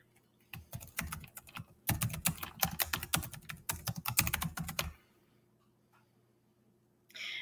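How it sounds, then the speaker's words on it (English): Someone types on a computer keyboard in quick, clicky bursts of keystrokes, pauses briefly, then stops for a quiet stretch before a short final run of taps. "I'm going to type that in."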